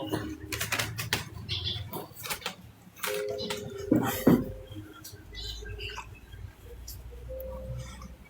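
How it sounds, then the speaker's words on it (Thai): Rain falling outdoors, a steady broadband patter with scattered ticks and drips, moderately loud throughout with a few louder splashes near the middle and no talk. "ฝนตก"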